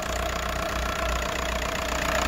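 A car engine idles steadily at a low, even rumble after being cleaned with a pressure washer, a continuous close hum with a slight knocking texture and no voices.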